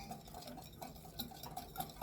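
Sauce of turmeric powder and tomato paste being stirred with a utensil, giving soft, close scraping and light clinks against the bowl, steady and quiet with no voices.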